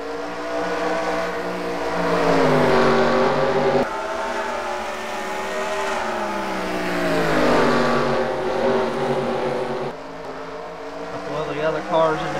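Race cars roar around the Bristol short track in a heat race, engines droning loud and continuous with rising and falling pitch as the pack passes, under steady commentary.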